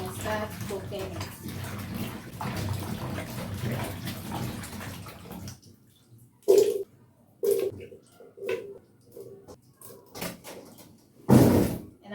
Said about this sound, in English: I'll just wash it and put it inside my pot